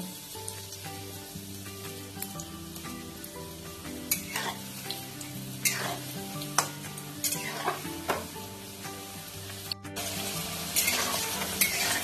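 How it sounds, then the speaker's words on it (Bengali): Chicken pieces frying a second time in hot oil give a steady close sizzle, with stirring scrapes and occasional utensil clinks throughout. "ওই একইভাবে সব চিকেনগুলো আমি ফ্রাই করে নেব"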